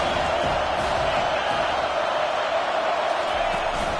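A roaring football stadium crowd keeps up a steady, dense wall of noise throughout, loud and unbroken, with no distinct individual voices standing out.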